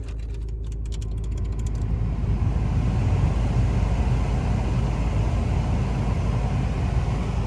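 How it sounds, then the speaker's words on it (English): Cooling fans of a Seat Leon FR Mk II 2.0 TDI running, a steady low whooshing drone, loud and close, with a short mechanical rattle at the start and no talk. "How loud are the fans on a Seat Leon FR Mark II 2-litre TDI FR?"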